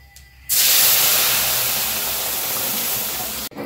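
Lentils hit hot oil seasoned with panch phoron and ginger, setting off a loud, steady sizzle that starts abruptly and holds evenly for about three seconds before cutting off.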